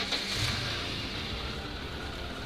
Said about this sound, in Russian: заводим мы с вами машинку